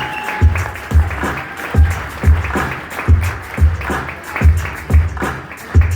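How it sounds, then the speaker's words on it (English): Rhythmic group clapping at a wedding reception for the groomsmen's entrance: loud, steady beats repeating about every 0.6 seconds, with faint music or crowd noise between the claps. "I think they deserve more applause than that."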